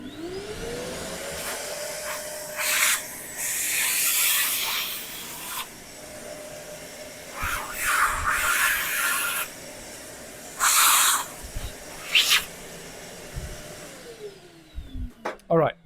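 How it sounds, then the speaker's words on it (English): A vacuum cleaner runs close and loud during guitar refretting work, spinning up with a rising whine and droning steadily. Suction surges and rattles repeat intermittently, then the motor winds down and stops near the end. "Let me just vacuum that up."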